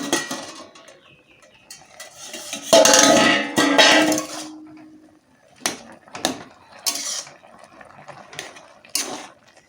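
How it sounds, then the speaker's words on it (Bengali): A lid lifted off a cooking pot while greens simmer for a pumpkin and gourd leaf curry, with a clattering metal scrape, then scattered softer clinks and knocks of pots and utensils. "এখন ঢাকনিটা আমি তুলে দেবো।"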